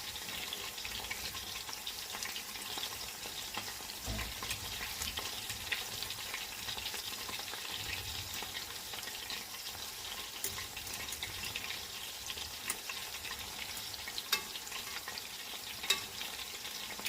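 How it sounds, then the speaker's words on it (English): Meatballs fry in oil, giving a continuous busy crackle and sizzle at moderate level, with occasional sharper pops and faint clinks scattered across the stretch and no talking. "So we fry our meatballs for about 8 to 10 minutes."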